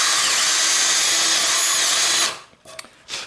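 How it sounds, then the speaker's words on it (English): Power drill boring out an old wooden dowel joint in an antique chair, running loud and steady at close range for about two seconds before cutting off, followed by a few brief clatters. "Now I will go to the 3/8 inch because the opening that I have up here is now the same size as my drill bit."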